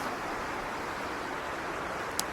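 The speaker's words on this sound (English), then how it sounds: "We got some runoff up here." Runoff water flowing beside a historic canal aqueduct over a river, a continuous even rushing hiss with no pauses, steady and moderately near.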